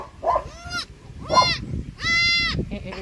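A nanny goat with three newborn kids bleats loudly and close by, three drawn-out calls spaced about a second apart, over faint background noise.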